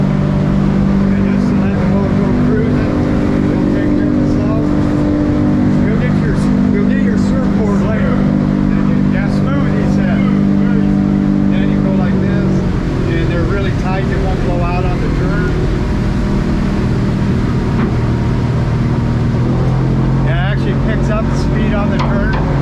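24-foot Edgewater boat with a Yamaha F300 outboard cruising, a loud steady engine drone with rushing wind and water that settles lower partway through, and someone speaking over the noise.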